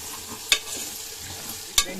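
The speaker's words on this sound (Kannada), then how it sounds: "ನೋಡಿ, ಒಗ್ಗರಣೆ ರೆಡಿ ಆಗ್ತಾ ಇದೆ. ಬೆಳ್ಳುಳ್ಳಿ ಎಲ್ಲವೂ ಕೂಡ ಫ್ರೈ ಆಗಬೇಕಂತ ನೀಟಾಗಿ." Garlic tempering fries in a pan with a steady soft sizzle, broken by two sharp clanks of a spoon stirring against the metal.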